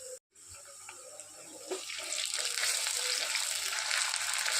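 Chilies sauté with garlic and onion in a pan for a pigeon pea chutney, a sizzle that swells and grows louder partway through and then hisses steadily, with light scraping bits and a brief silent gap at the start.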